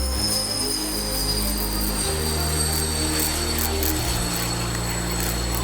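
A Ukrainian Air Force Sukhoi Su-27 Flanker jet rolls out along the runway with a loud, steady engine roar and a high, sustained whine throughout, with no voices.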